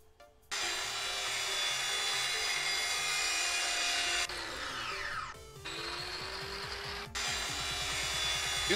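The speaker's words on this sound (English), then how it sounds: "I need the grinder again. And let's grind this one." Grinder cutting through a bolt in Tank Mechanic Simulator, a continuous loud whining grind that cuts off briefly and restarts several times, with mechanical rattling underneath and no talking.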